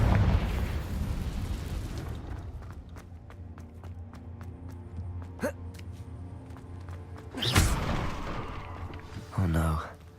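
A Confringo fire spell in Hogwarts Legacy bursts with a loud, close explosive whoosh amid humming game ambience, followed later by a second impact burst.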